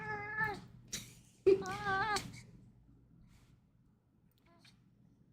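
A house cat meows loudly up close, two drawn-out wavering meows in quick succession, followed by near silence and the start of another call.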